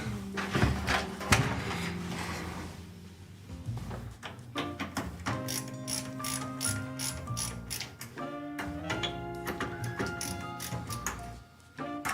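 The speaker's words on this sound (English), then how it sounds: "I should probably use a screwdriver to tighten it" A screwdriver tightens a CPU cooler during a PC build, giving repeated ratcheting clicks in uneven bursts throughout, with some faint tonal background sound underneath.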